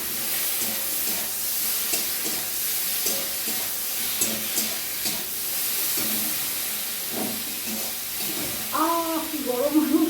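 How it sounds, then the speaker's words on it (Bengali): Paneer curry frying in a pan while being stirred, a steady hissing sizzle with soft rhythmic scraping throughout, and a voice speaking briefly near the end. "এবার এটা একটু নাড়ানাড়ি করি"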